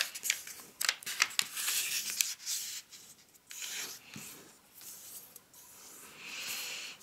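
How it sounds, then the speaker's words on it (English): Origami paper, a purple square for a minimalist Santa, is flipped over and folded in half diagonally, making close, crisp rustling and sliding paper sounds in uneven bursts with no talk. "We're going to flip it over and fold it in half diagonally at first."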